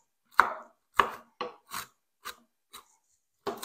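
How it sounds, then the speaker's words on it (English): Walnuts chopped with a knife on a board, about eight sharp separate cuts with uneven spacing and short gaps of silence, close and clear, with no voices. "So we're going to chop up our walnuts"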